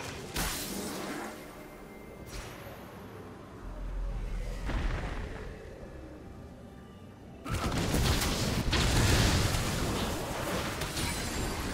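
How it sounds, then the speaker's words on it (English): Turret destruction in League of Legends, a loud booming, crashing explosion that swells in bursts and builds into a heavy sustained blast near the end, with no talking. "Turret has been destroyed."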